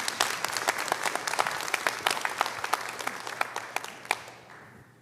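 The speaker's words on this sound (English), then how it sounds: "So can we give them a round of applause" An audience applauds at a talk, crisp individual hand claps over a continuous patter of clapping that thins and fades out near the end.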